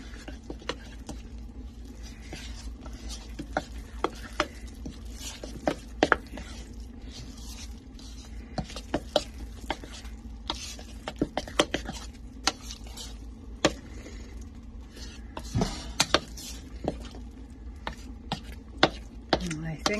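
Sticky dumpling dough being stirred and folded by hand in a bowl for Irish stew, a steady run of soft wet squishing and light scraping taps, close and fairly quiet, with no talk.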